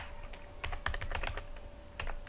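Keys clack on a computer keyboard in quick, irregular bursts, soft and close, with no talking.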